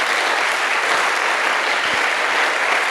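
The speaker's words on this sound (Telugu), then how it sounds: "ఒకసారి మేడం చప్పట్లు కొట్టారు ఫ్రెండ్స్" Steady applause from an audience at a business training reunion fills the whole stretch, a dense, even wash of many hands clapping with no break and no talk.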